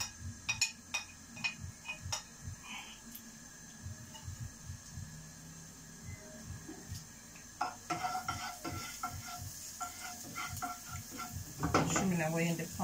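Finely chopped garlic sizzles in a frying pan under a steady soft hiss, with stirring and clinks of utensil against pan, while someone talks throughout.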